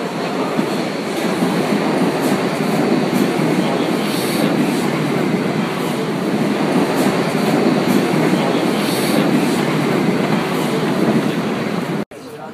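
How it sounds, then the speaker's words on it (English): A Berlin U-Bahn metro train approaching a station fills the space with a loud, steady rumbling roar and rhythmic rail clatter that continue unbroken, close and enveloping, before cutting off abruptly near the end. "We're in Berlin's underground metro system, the Unterbahn, and our train is just approaching"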